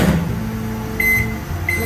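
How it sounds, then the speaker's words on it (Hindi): Microwave oven running with lemons inside, a steady low hum with a couple of short beeps near the end, close and fairly quiet. "उसे मैं माइक्रोवेव में 1 मिनट के लिए रख दूँगी"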